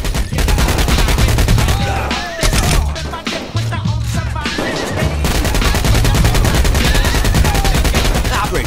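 Dense, rapid video game gunfire with overlapping bursts and machine-gun volleys, loud and continuous throughout, briefly easing in the middle before resuming at full intensity.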